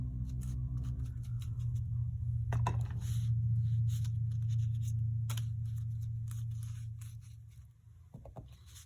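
Pencil or marker scratching through a numbers stencil onto a paper planner page, soft intermittent strokes over a low steady hum, close and quiet.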